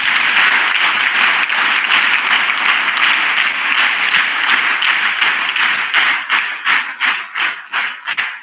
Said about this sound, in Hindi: तालियां वो बजाएंगे